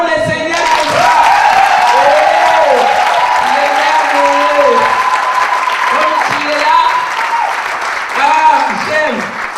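A church congregation applauds loudly and steadily at a gathering, the clapping running on under a loud voice singing or calling out over it, close and full throughout.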